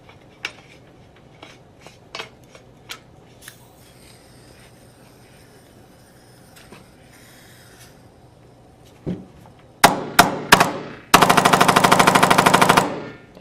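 A Tippmann X7 Phenom paintball marker fires in electronic mode, close and loud: a few scattered single shots, then a rapid full-auto burst of sharp pops lasting a couple of seconds. Fainter clicks and handling noises come first, and no one speaks.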